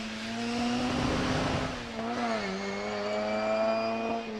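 An early Subaru Impreza WRX with the 2-litre engine racing at a hillclimb, its engine note rising and falling through gear changes with harmonic whine, fairly close and loud, no talk over it.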